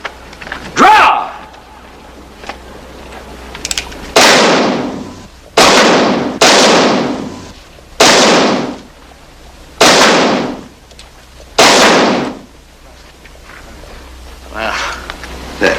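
Single pistol shots fired at bottle targets in an outdoor western contest, six loud separate cracks spaced a second or two apart, with talk before and between.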